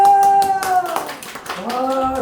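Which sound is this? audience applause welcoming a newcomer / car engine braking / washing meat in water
audience applause welcoming a newcomer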